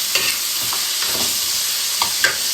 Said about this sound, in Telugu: అల్లం వెల్లుల్లి పేస్ట్ కొంచెం పచ్చివాసన పోవాలి అప్పుడు దాకా అయితే వేయించుకున్నాం